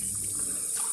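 Tap water runs steadily into a glass at a kitchen sink, a short, even hiss of flowing liquid heard close up with no talking over it.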